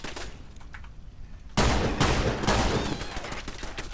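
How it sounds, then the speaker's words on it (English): Gunfire from the video game Fallout London: after a quieter stretch, a loud burst of rapid shots erupts and continues densely, close and sharp. "looks like we can get three shots off in one go"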